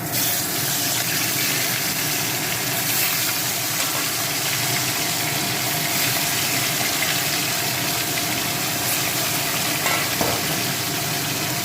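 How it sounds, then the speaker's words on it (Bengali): Pieces of catla fish fry in hot oil with a dense, steady, loud hiss that holds unchanged throughout, and no voices. "প্রত্যেকটা মাছ এপিট ওপিট করে লাল করে ভেজে নিচ্ছি"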